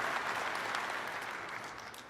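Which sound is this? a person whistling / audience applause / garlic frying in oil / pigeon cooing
audience applause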